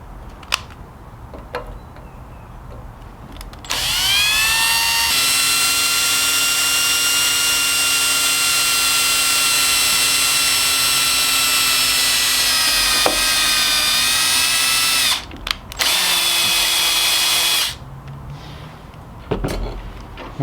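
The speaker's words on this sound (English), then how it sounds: "That's a drill and a tap at the same time." A power drill with a combined drill-tap bit whines at a steady high pitch, drilling and tapping a hole in metal for about ten seconds, pauses briefly, runs again, then stops, with faint clicks around it.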